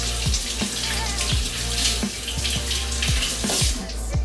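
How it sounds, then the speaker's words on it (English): Potatoes rinsed under a running kitchen tap, a steady close splash of water with a few soft knocks and thuds as they are turned in the stream. "So just wanna give them a nice little rinse."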